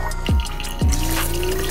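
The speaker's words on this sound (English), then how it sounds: "And now we're flushing the chamber of the hypochlorous acid water" An Enagic Leveluk Super 501 water ionizer flushing its chamber with water: close, loud liquid running with two distinct dripping plops and a rising filling tone, no voices.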